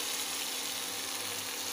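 Steady, hissing sizzle of vegetables and unripe black nightshade berries frying in a hot pan, a constant bright crackle with no talking.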